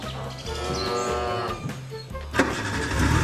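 A toy tanker truck in a farm play set starts its engine with a cranking, rumbling rev that runs throughout, mixed with cattle lowing and farm animal sounds.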